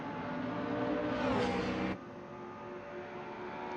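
A Porsche 911 RSR GT3 race car in Assetto Corsa with the Fonsecker sound mod gives a steady, loud engine drone. It swells for about two seconds, then drops abruptly to a lower, steadier hum, with no voices.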